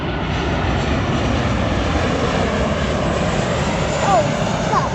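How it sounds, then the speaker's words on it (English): A large blue airplane drones steadily overhead, a broad continuous engine roar with a faint voice or two beneath it. "I can literally see the blue mega airplane is the big"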